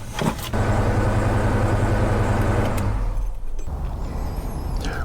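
A Ford Bronco engine with 260,000 miles cranks and catches, then settles into a loud, steady idle that shifts to a lower rumble near the end.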